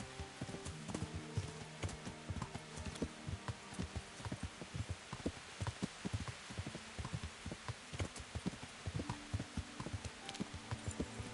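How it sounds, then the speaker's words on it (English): Horse hooves clip-clopping steadily as a rider travels in Kingdom Come: Deliverance, a quiet rhythmic trot under a busy, layered game soundscape. "it's easier if I just ride my horse instead of running."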